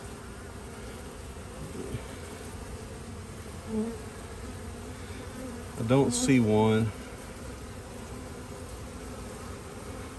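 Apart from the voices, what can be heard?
honey bees buzzing at apiary hive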